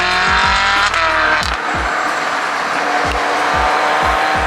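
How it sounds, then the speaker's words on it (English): A Ferrari accelerates loudly away from a car meet at a park, a snarling high-revving engine with rapid upshifts and pops, close and harsh at first, then settling into a lower rumble. "This one's sick sounding Ferrari right there."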